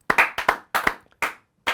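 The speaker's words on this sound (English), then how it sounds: "Everyone give a round of applause to Lincoln." A short round of clapping in honour of Lincoln the goat, newly elected mayor: five quick bursts of hand claps spread over under two seconds, close and fairly loud with silent gaps between, no voices.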